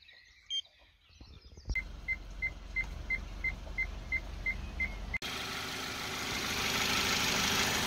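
A Kia Ceed 1.6 engine starting up and idling steadily, with a regular series of chime beeps over the low hum before the sound shifts to a broader, louder idle.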